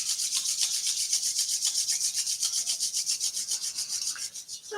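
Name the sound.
palms rubbing together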